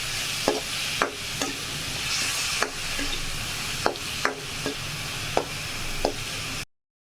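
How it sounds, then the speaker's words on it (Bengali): Chopped garlic and onion fry in a pan with a steady sizzle, punctuated by regular sharp taps of a spatula stirring against the metal, close and without voices. "কুচনো রসুন আর পেঁয়াজ। ভালো করে এটাকে এবার ভেজে নেব।"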